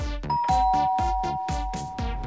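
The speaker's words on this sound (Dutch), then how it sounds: "Een moment, de bel gaat." A doorbell chimes in a home, a run of bright ding-dong tones struck repeatedly and close, loud and unaccompanied by talk.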